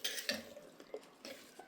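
A utensil stirs tamarind in a cooking pot, giving a few short scraping and clinking strokes at close range, separated by brief pauses.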